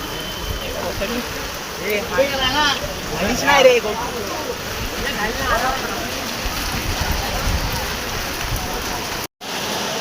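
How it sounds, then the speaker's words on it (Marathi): Steady rain pattering on surfaces outdoors at a ceremony in Parel, Mumbai, a constant wash of noise with people talking faintly underneath. "तर पाऊस पडतो इथं पण"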